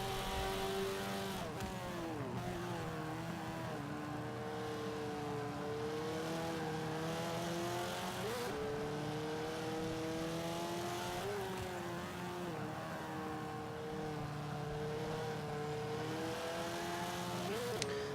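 A 2005 Subaru WRX in Forza 5, tuned for B class, drives with its engine note rising and falling through revs and gear changes. It holds steady and prominent the whole time, with no talk.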